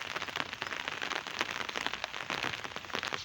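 Steady light unseasonal rain patters on a surface nearby on a cattle farm, a dense, even sprinkle of drops with no voices.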